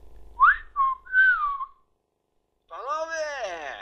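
A short vocal imitation of a whistle, three sliding notes rising and falling, followed after a pause by a voiced, wavering vocal sound.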